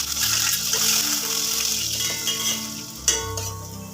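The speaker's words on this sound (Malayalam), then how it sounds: "പിന്നെ നമ്മൾ അതിലേക്ക് ഇഞ്ചി വെളുത്തുള്ളി അരിഞ്ഞു വെച്ചതൊക്കെ ചേർത്ത് കൊടുത്തു" Chopped ginger and garlic sizzle in hot oil, a steady close hiss with a low hum underneath and one sharp clink of a utensil near the end, no voices.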